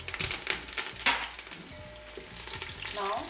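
Asafoetida, mustard seeds, cumin and curry leaves sizzle and crackle loudly in hot oil while Marwari gatta pulao is being made. Steady frying hiss with sharp pops and the odd stir close by.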